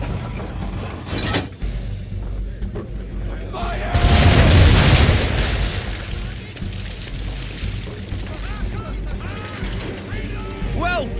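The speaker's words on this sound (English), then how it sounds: "Bring around broadside, and when all guns are on target, call fire." Naval cannon broadside fired from a sailing ship in Assassin's Creed III, a deep heavy boom swelling midway over a constant bed of creaking wood, rushing water and game sound, with talk in the mix.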